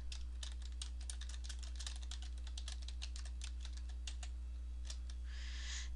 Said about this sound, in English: Go ahead and type.